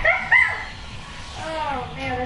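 A dog gives a couple of short, high yips and whimpers close by, followed by fainter whining over a steady background hum during gameplay.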